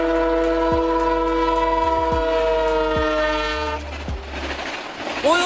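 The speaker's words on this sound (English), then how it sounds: "Oil tanker train, careful and powerful." An oil tanker freight train carrying fuel in big round tanks rolls past with a loud sustained horn chord, deep engine rumble and a few rhythmic wheel clacks, fading into rail noise at the end.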